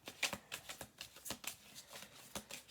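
A deck of tarot cards is shuffled close up, quiet papery riffles and flicks coming in quick irregular bursts over a couple of seconds.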